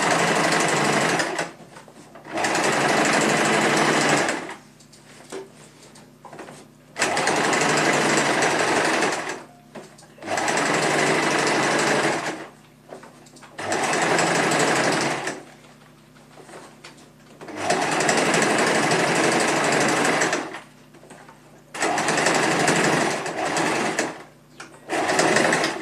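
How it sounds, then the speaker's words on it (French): A sewing machine topstitches a cosplay bustier modelled on Moxxi from Borderlands 3, running in close, loud bursts of a few seconds each, separated by short pauses, with no voices. "je surpique à 5 mm. En orientant ma couture"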